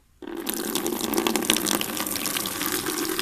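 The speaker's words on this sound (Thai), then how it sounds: "เปิดน้ำดู" Water rushes from a tap made from a bottle neck that is pushed onto a faucet. A steady, close splashing stream starts abruptly after a moment of near silence and keeps running evenly with no talking.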